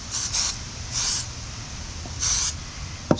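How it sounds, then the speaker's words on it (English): Spray cleaner misted over a musket in three short bursts, close hissing puffs separated by quiet, ending with a small sharp click. "We're going to give it a final spray down."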